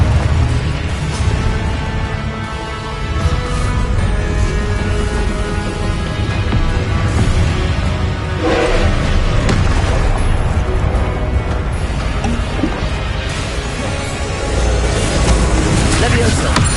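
Confringo blasting spells explode in Hogwarts Legacy, booming repeatedly through dense, continuous game sound with a voice talking throughout.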